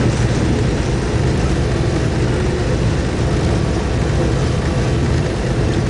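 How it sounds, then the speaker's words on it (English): A 600-metre, 14,000-tonne train hauled by four diesel locomotives roars steadily out of a tunnel near Wellington, New Zealand. The heavy engine drone is loud and constant throughout, as heard from inside the cab. "There's 4 engines, 4 locomotives."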